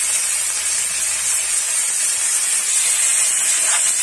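Onion and tomato sizzle together in a hot pan for hot and sour paneer noodles, a loud, steady hiss that runs unbroken from start to finish with no talking.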